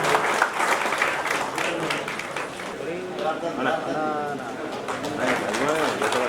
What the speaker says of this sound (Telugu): గట్టిగా చప్పట్లతో మన అశోకాన్ని తెలియజేద్దామండి